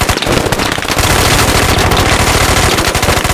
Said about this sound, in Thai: เอาแล้วยิงใส่ขาครับขาโบ แล้วยิงใส่อย่างนี้ครับ